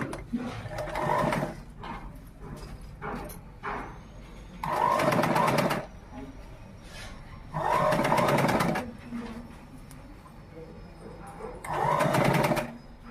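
A sewing machine stitches a uniform shirt in four loud, rapid bursts of a few seconds each, separated by quiet pauses with faint handling noises, close up and alone.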